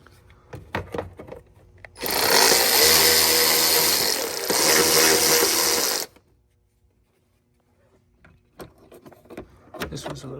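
A power tool tightens screws on the engine fan of an Infiniti G37, running in a loud, steady four-second whir that dips briefly midway, with faint clicks and handling noises before and after.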